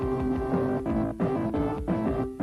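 Sega Mega Drive video game music from a 1992 Mean Machines Sega tape plays alone: steady, rhythmic synthesized tones with a repeating beat pattern, continuous and fairly loud throughout.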